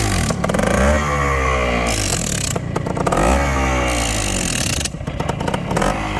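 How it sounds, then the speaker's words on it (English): An Ossa 350 two-stroke motorcycle engine snarls and winds up and down through rising and falling pitch sweeps under a compression brake, loud and close, with a rattling crackle. "That's a compression brake. Right, it's like a Jake brake for a two-stroke motorcycle."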